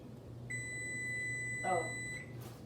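Microwave oven timer beeping in a home kitchen during meal prep, a steady high electronic tone sounding for about two seconds over low background hum, with a brief clatter partway through.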